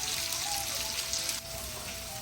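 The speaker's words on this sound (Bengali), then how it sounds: "আর এখানে এটা আলু, মূলো আর শিম ভাজা করে নিচ্ছে।" Potato, radish and beans fry in a pan in a Bengali home kitchen, giving a steady, dense sizzle that runs unbroken and fairly close throughout.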